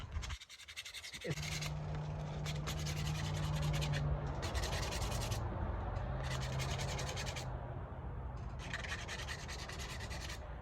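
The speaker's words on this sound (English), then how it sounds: "I've been sanding on this for about 10 minutes" Hand sanding of a rounded aluminum part before polishing, a steady close scratchy rubbing that continues for most of the stretch after a brief quiet start, with occasional breaks in the strokes.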